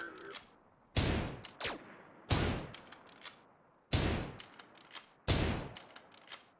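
Gunshots from a weapon in a video game, five loud sharp cracks spaced about a second and a half apart, each with a short ringing tail and a fainter echo between shots.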